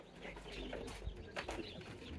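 Baby chicks peep and cheep softly inside an automatic brooder, heard as faint scattered calls over a steady low background hum.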